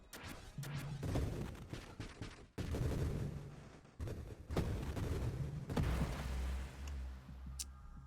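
Bursts of rapid weapon fire in the space shooter Nova Drift, sharp staccato volleys clustered in several quick groups with short gaps, fairly faint with a low rumble and occasional electronic tones.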